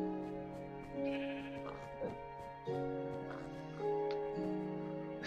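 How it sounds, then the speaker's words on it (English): Sheep in the video game Minecraft bleat repeatedly, several drawn-out wavering calls one after another, clear and close, while a person talks over them. "There's a red sheep."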